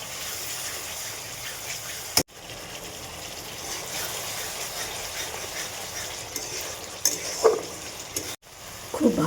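Tomatoes and peas fry in a pan for a rohu fish and pea curry, giving a steady, fairly loud hiss and sizzle with faint stirring, broken by two brief cuts.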